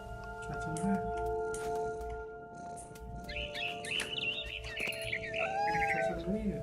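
A cat meows in the video game What Remains of Edith Finch, several drawn-out meows and yowls in the second half over a steady humming game ambience with faint birdlike chirps.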